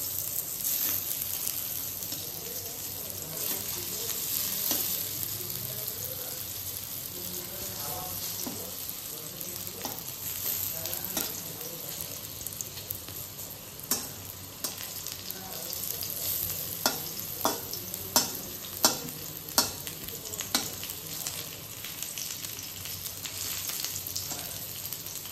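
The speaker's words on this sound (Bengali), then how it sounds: "পটল কেটে রেখে দিয়েছিলাম, তো পটল ভাজা বসিয়ে দিয়েছি" Sliced pointed gourd (potol) fries in a pan with a steady, close sizzle, and sharp stirring scrapes break through it now and then.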